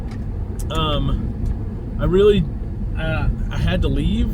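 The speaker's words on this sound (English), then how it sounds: "I'm in the car. I'm driving home." Low steady road rumble inside a moving car fills the background throughout, with a person talking over it for most of the stretch.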